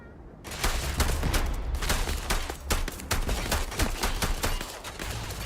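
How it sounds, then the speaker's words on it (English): Rapid bursts of gunfire in the video game Starfield, sharp repeated shots rattling close and loud, with a steady rumble underneath and no talking. "Okay, now they're shooting at me."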